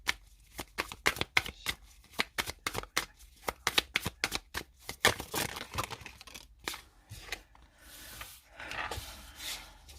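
Tarot cards shuffled and cut by hand, a fast run of crisp riffling flicks and slaps at close range that loosens into softer, scattered card rustling toward the end, with no talking.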